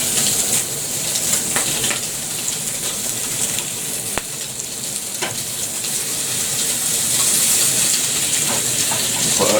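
A beef burger patty fries in a pan with a steady, close crackling sizzle and hiss throughout, a single sharp tap partway through, and no talking.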